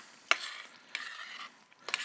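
Risotto simmering in a pan during an asparagus cooking workshop, quiet scraping stirs at three moments over a soft bubbling hiss, close and faint with no voices.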